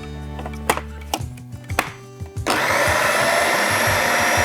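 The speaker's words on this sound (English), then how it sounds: "And you blend it a little bit more." A blender chopping and pureeing salsa verde made with garlic, anchovies and capers, first with a few short pulsed bursts, then running loud and continuous up close.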